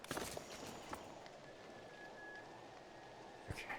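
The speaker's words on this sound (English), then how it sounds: "It's a monsoon right now. It's raining." Rain falls in the strategy video game Endless Legend 2 as a faint, steady patter with a few scattered louder drop-like taps near the start and end.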